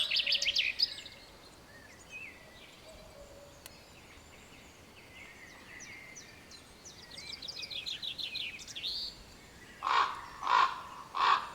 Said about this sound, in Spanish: Buitres y cuervos se le han adelantado.